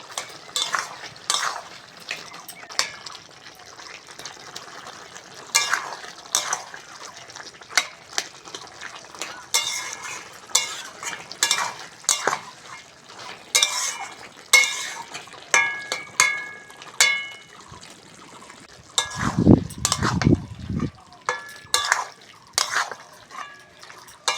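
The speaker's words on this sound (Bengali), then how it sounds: "আলু আর টমেটো বন্ধুরা একটু ঘেটে ঘেটে দেবো তাহলে চচড়িটা খেতে ভালো লাগবে" Potato and tomato being stirred in a cooking pan for a small-fish curry, with repeated scraping and clinking strokes of a utensil against the pan, close and moderately loud, in an irregular rhythm throughout.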